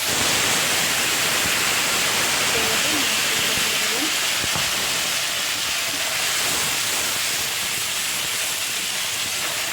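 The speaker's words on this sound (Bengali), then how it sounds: "তেল গরম হয়ে গেছে আমি একটু হলদি দিয়ে দেবো" Loud, steady hissing sizzle of turmeric hitting hot oil, with a brief voice partway through.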